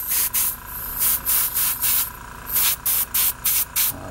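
An airbrush sprays Testors One Coat dark blue metallic lacquer onto a model Baldwin Motion Camaro body, hissing in a series of short repeated bursts with brief pauses between them.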